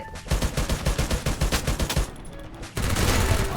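MP5 submachine gun fire in a shooter video game, rapid bursts of close, loud shots in fast rhythm for about two seconds, a short pause, then dense heavy firing again.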